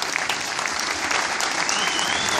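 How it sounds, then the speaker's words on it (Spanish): Dense, steady applause from a crowd at a Star Wars fan event in Argentina, loud and continuous throughout with no pauses. "damos un aplauso"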